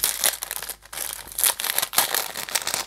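Crinkling and tearing of plastic packaging as a Shein necklace is unwrapped, a busy run of sharp rustles and crunches in bursts with short pauses, close up.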